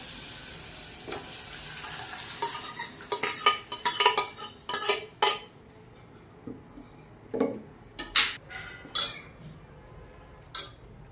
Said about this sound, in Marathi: आता मसाल्यामध्ये आपण शिजलेली मटकी आहे ती टाकून घेऊया